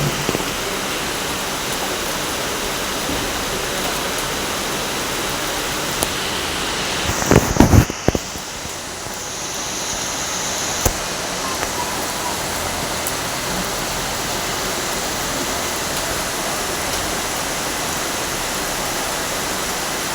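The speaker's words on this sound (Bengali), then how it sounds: "বৃষ্টির আওয়াজও ভীষণ" Heavy evening rain pours in the mountains of Sikkim as a dense, even roar that lasts throughout. A brief clatter breaks through around the middle, and no voices are heard.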